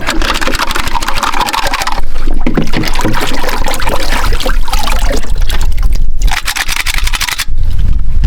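A Glock 34 pistol slide is worked back and forth under water during a water test, producing loud sloshing, scraping and splashing in uneven bursts with brief pauses, close up and without talk.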